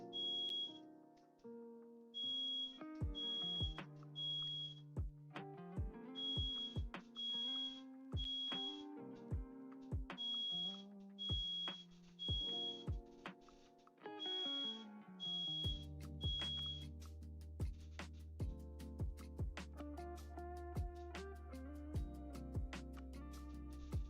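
Faint smoke alarm chirping in a far room of an electronics repair workshop, short high beeps repeating in a steady pattern over quiet tonal background sounds.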